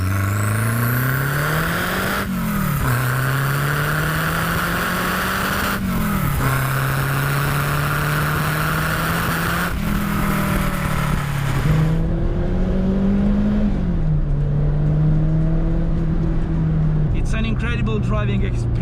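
A Renault 5 Turbo 2, a Group B homologation special with a 5-speed manual, revs hard while driving on slightly slippery tarmac, its loud engine climbing and dropping through repeated gear shifts, with a voice speaking over it.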